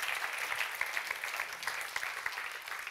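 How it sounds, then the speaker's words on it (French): Audience at an advertising awards showcase applauds, a faint but steady patter of many hands clapping, slightly distant, heard on its own without talk. "Applaudissements."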